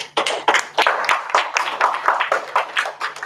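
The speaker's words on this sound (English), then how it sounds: "So big round of applause to him." Audience applause at a nautical institute branch annual general meeting for a newly elected committee chairman: a crowd of hands clapping steadily for several seconds, dense and irregular, close and fairly loud.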